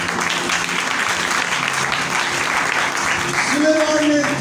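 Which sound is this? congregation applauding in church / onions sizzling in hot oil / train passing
congregation applauding in church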